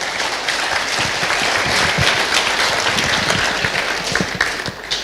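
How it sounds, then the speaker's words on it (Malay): Steady, dense audience applause fills a hall at a Malaysian talk event as a guest speaker is welcomed, continuous and fairly loud throughout with no voices over it. "tepukan gemuruh untuk Sir Yusof Chambers."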